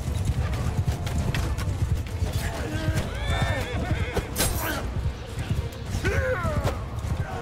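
Horses in Mount & Blade II: Bannerlord gallop with dense hoof clatter and repeated loud neighs and whinnies amid battle noise, close and continuous.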